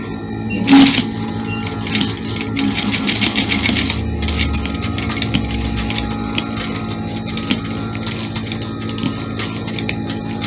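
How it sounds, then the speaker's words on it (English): Sewing machine stitching a kids' peplum dress, a steady mechanical whir with rapid needle ticking running continuously and close, with a brief louder knock near the start. "Sew it gently. It's slow but steady."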